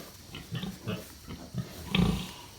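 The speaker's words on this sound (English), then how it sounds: "Some good looking pigs." A sow with a freshly farrowed litter of newborn piglets makes low grunts in a scattered series, the loudest near the end, with no talking.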